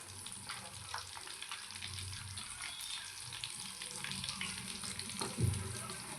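Finger fish fry in hot oil with a soft, steady sizzle and scattered light pops, faint and continuous, with an occasional clink of a utensil.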